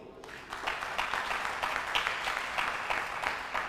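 A church audience claps together in a steady crackling burst of applause, fairly close and continuous, with a faint voice at the edges.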